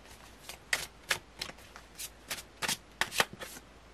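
Tarot cards being shuffled and drawn, a series of crisp papery riffles and slaps in a quiet room, roughly a dozen short bursts spaced unevenly across the stretch, close and clear with no talking.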